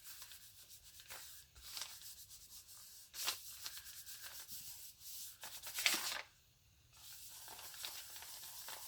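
A hand or brush rubs watercolor paint into a bullet journal paper page, making soft, faint scratchy strokes in uneven bursts with short pauses between them.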